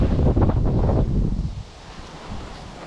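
Strong wind gusts buffet the microphone beside a lake near a roadside parked van, loud rushing bursts in the first second and a half, then easing to a steadier lower roar.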